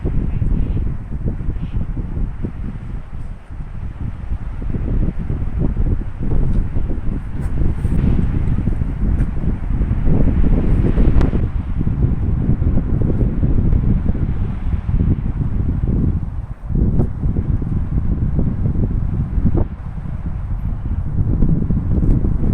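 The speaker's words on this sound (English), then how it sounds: "the wind made that ever so familiar sound in the pine trees" Strong mountain wind blows through pine trees in a steady, heavy roar that swells and eases without pause, buffeting the microphone.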